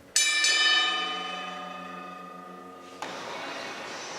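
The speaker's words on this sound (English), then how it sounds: "But the bell still works." An old locomotive's large metal bell rings twice in quick succession, its rich tone slowly decaying, then a third clang sounds near the end.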